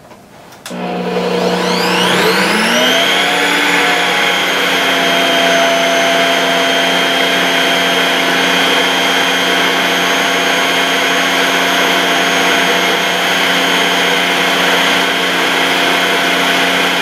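A mixer runs steadily, whipping Ayurvedic butter blended with herbal powders; after a short start it spins up to a constant loud whir with a high motor whine that holds for the rest of the stretch.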